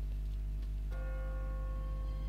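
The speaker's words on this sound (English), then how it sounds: "What kind of church bell goes off at 20 past the hour?" An automatic church bell rings in The Walking Dead video game, a single clear strike with a sustained, tonal ringing decay over a low steady hum.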